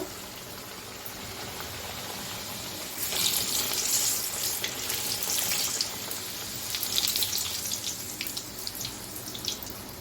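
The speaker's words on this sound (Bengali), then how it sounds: "এই যে লুচিগুলো এক এক করে ভেজে নিচ্ছি সবগুলো" Luchi fry in hot oil one by one, a hissing, crackling sizzle that swells louder partway through and keeps bubbling steadily.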